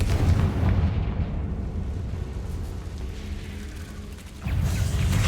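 A Confringo blasting spell explodes in Hogwarts Legacy with a deep rumbling boom that rolls and decays over several seconds, then a second heavy burst near the end.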